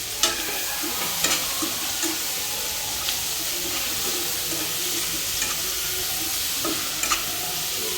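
Masala and bay leaves fry in a pan for dhaba-style paneer masala, giving a steady close sizzle with a few light stirring clicks and no talking.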